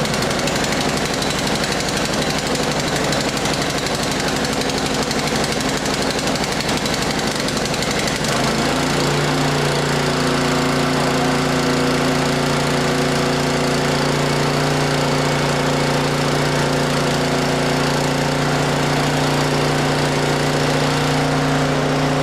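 A petrol backup generator on a solar backup system starts automatically and keeps running, a steady loud engine drone that settles into a smoother hum after a change partway through, with no talking.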